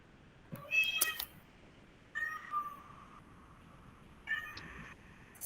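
A house cat meows three separate times at a home during an online lecture, each call clear and fairly close, with quiet pauses between and no talking.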